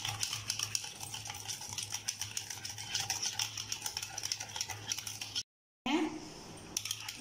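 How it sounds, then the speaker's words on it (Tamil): Curd, butter and sugar for a chocolate zebra cake batter are mixed in a bowl, giving a busy run of soft clicking and scraping strokes, quiet and close, broken by a brief total silence. "சேர்த்துட்டு நல்லா எல்லாத்தையும் மிக்ஸ் பண்ணிக்கலாம்."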